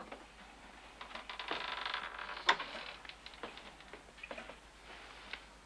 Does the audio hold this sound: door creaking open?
yes